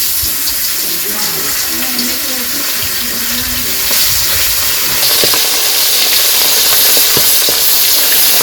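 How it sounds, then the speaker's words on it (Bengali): Fish frying in oil in a village kitchen on a rainy day, a steady bright hiss and crackle filling the clip, with a faint voice murmuring underneath and a gentle swell in the sizzle toward the end. "মাছ ভাজা হয়ে গেছে"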